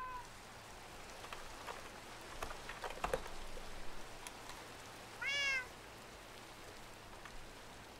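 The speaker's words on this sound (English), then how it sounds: "It's very rainy." Steady rain falling in a video game, a soft continuous patter spread across the whole clip, with a brief cat-like meow rising near the middle and no one talking over it.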